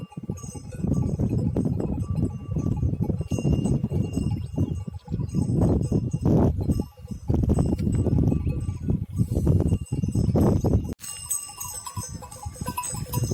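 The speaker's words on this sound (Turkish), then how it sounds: "Karşı taraftan koyun sesleri var, çanlar var." Sheep bleating and livestock bells clanking at a distance, a busy, continuous jumble of animal calls and metallic tinkles with no talking.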